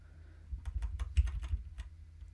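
Computer keyboard arrow keys are tapped in a quick run of light clicks, about eight crisp presses close by over a low background hum, with no talking.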